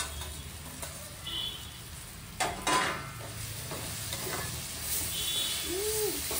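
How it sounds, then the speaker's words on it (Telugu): Onion, tomato and egg curry with turmeric sizzles gently in a pan while a spoon stirs it, giving a steady low fry with scraping and clinking knocks that come and go, close by and with no talk. "మళ్ళీ ఇంకా ఫ్రై అవుతుంది"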